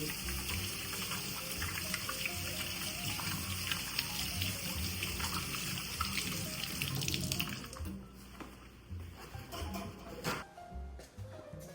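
Hands washed under a running kitchen tap, a steady close splash of water with rubbing and shifting flow, ending in uneven splashes as the stream is interrupted.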